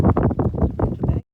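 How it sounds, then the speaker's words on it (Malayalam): Strong wind on the Vellanikkal rock hilltop buffets the microphone in heavy, low rumbling gusts for about a second before cutting off abruptly. "കാറ്റ് കണ്ടില്ലേ, ഒരു രക്ഷയില്ലാത്ത കാറ്റ്."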